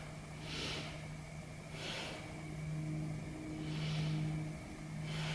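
Slow, deep breaths during a beginner yoga session, three soft, airy inhale-exhale swells in an even rhythm, quiet and close over a low background hum.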